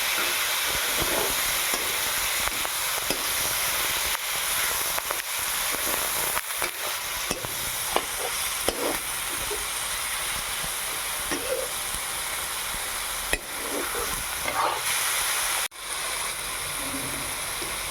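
Broiler chicken meat fries in a pan with bottle gourd, a continuous hissing sizzle broken by scattered scraping clicks of a spatula as it is stirred, close and fairly quiet with no talk.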